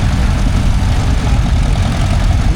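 A tractor engine idles at a tractor parade at the Netley Marsh steam and craft show, a loud, steady low rumble close by, unbroken throughout with no talk.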